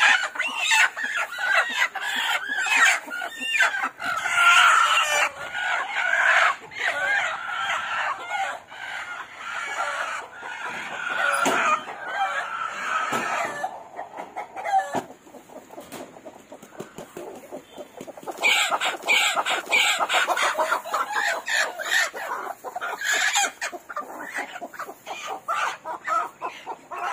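Chickens cluck and a rooster crows inside a cleaned shed, a busy mix of close, overlapping calls with short bursts and pauses, loud and unaccompanied by talk.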